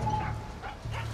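Dog barking in the video game Far Cry 6, a few short yips and barks over a steady low game hum, with a voice briefly talking.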